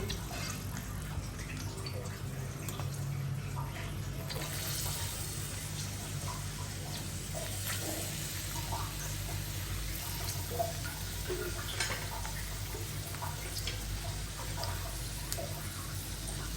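Chopped onion hitting hot oil in a frying pan for a Bengali chicken dish, giving a steady, close hiss and crackle of frying with scattered sharper spits throughout.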